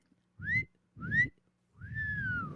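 A voice imitates a teacher's whistling while handing out papers: three whistled notes, two short rising ones and a longer tone that slides downward, each over a low rumble of noise, fairly close and alone.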